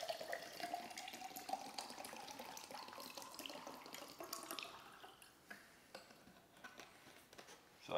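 Coconut water is poured into a glass in a continuous, faint, close trickle with splashing that thins out toward the end.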